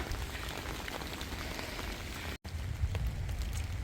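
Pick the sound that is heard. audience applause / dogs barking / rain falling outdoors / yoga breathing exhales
rain falling outdoors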